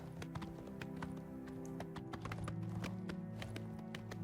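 Hooves of a paint horse clip-clop steadily in Oblivion Remastered, a quick, even run of sharp taps over a constant low background hum, with no voices.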